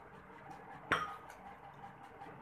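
A spoon strikes a glass bowl once with a sharp, bright clink while sugar is added to egg white, followed by a short ringing tail over quiet room noise.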